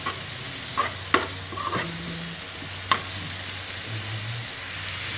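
Salted sliced onions stirred and fried in a pan until golden brown, a steady close sizzle punctuated by several spatula scrapes and clacks against the pan, no talking.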